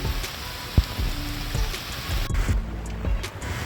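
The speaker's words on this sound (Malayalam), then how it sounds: "നല്ല മഴയാണ് കേട്ടോ, നല്ല മഴയാണ്" Steady heavy rain hisses down outside an excavator showroom and hydraulic parts workshop, a broad, constant wash with a few sharp knocks and drips on nearby surfaces throughout.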